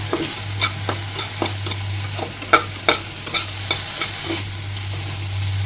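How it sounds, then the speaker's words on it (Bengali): Helencha greens sizzle steadily as they are fried dry in a pan, with regular scraping knocks of a spatula stirring them over a constant hum. "দেখো বন্ধুরা শাকটাকে আমি একদম ভাজা ভাজা করে নিয়েছি, সমস্ত পানি শুকিয়ে নিয়েছি।"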